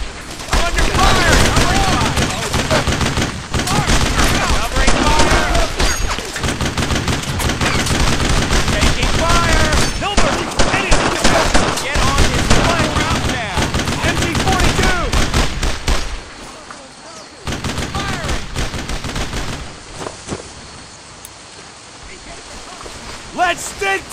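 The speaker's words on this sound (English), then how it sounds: "I'm under fire." Heavy, sustained gunfire fills a World War II squad battle in the Brothers in Arms game, with rapid machine-gun bursts and rifle shots crackling nearly nonstop, easing somewhat near the end while soldiers shout orders over it.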